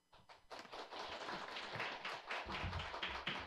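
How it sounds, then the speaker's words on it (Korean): An audience at a Busan nurses' academic conference applauds, a brief burst of moderately close clapping that starts sparse and builds to a steady, lively patter. "큰 박수 부탁드립니다."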